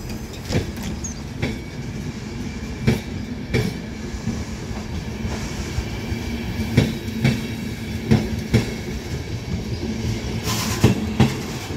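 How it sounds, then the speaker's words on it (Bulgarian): A train pulls out of a Bulgarian central station bound for Petrich, with steady low rumble and repeated rhythmic clacks of wheels over rail joints, nearby and loud, no talk. "Добре, след една минута заминава влака за Петрич, ето го."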